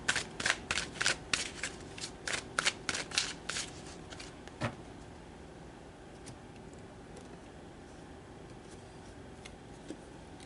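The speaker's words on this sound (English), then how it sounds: "So let's pull more cards." Tarot cards are shuffled by hand close up, a quick run of crisp riffling flutters over the first few seconds and one last snap, then only quiet room tone.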